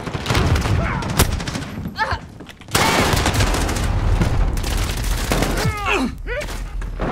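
Gunfire in a Modern Warfare multiplayer match on the Vacant map, loud close bursts of automatic fire with a booming impact, and a voice talking partway through.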